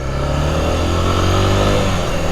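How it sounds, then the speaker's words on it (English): A Kawasaki Z motorcycle engine drones steadily and loudly throughout, with a continuous roar mixed with road and wind noise on wet roads in Guatemala. "Yeah, it's a Kawasaki."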